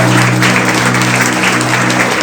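Church congregation applauds during a sermon, loud continuous clapping from many hands, close and steady throughout, with a low organ or keyboard drone held underneath.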